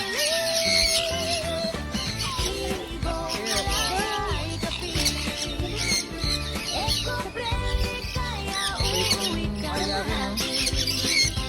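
A pet bird squawks repeatedly at close range, harsh calls mixed with chirps under a busy, cluttered background with some voices.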